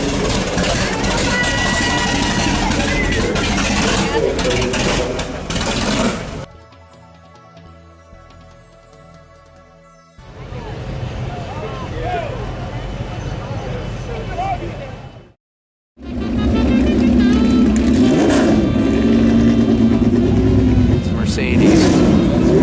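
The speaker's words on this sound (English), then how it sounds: "The race car is started up and driving away." A 1909 Mercedes-Benz race car at a concours event rumbles and revs loudly, dropping away briefly before a strong burst of engine noise returns as it pulls off, with crowd and announcer voices mixed in.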